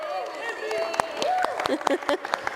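Small audience at a meeting gives a short round of applause, with scattered distinct claps under overlapping voices, near and fairly loud but uneven.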